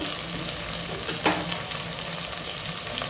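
Onion frying in a pan for a mushroom biryani, a steady close sizzle with a sharp scrape of stirring near the middle and no talking.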